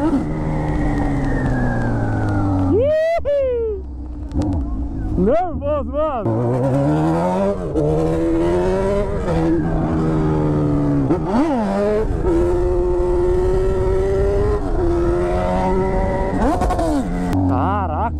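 Honda CB1000 motorcycle engine revving hard in repeated bursts during a wheelie, rising and falling pitch sweeps, close and loud, with someone talking over it throughout.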